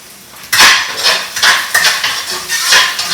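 A metal utensil scrapes and clatters against a wok while stirring tofu, sharp rhythmic clanks repeating several times close up and loud, with no talking.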